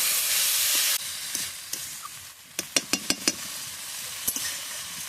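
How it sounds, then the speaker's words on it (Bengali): Banana flower and potato sautéed in a pan sizzle in a broad hiss that cuts off early, followed by scattered sharp clicks and taps of stirring against the pan. "এবার আলু দিয়ে মোচাকে ভালোভাবে কষিয়ে নেব।"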